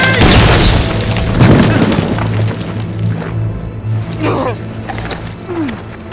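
A grenade explodes with a loud, close boom that rolls into a long rumbling decay, followed by distant shouting voices.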